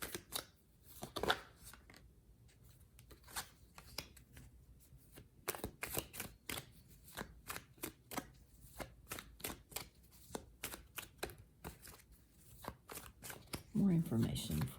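Tarot cards for a pick-a-card reading are shuffled and handled close by, with a long run of quick crisp riffles and snaps and a voice talking quietly between them.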